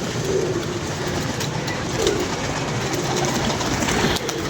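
Pigeons coo softly amid a steady broadband hum of rail traffic and outdoor noise, their low throaty calls repeating faintly through the constant background.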